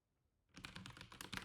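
Computer keyboard typing begins after half a second of near silence, a steady close patter of keystrokes, quiet overall.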